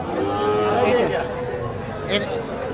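Sahiwal cattle and calves at a livestock market give a drawn-out moo with a rising and falling tone, backed by steady market crowd murmur and a second, higher call near the end.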